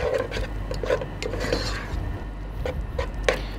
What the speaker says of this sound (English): get that pan off the heat and work that butter in.